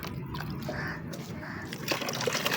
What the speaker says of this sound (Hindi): सारा सीमेंट का लिक्विड जो है वो अलग हो रहा है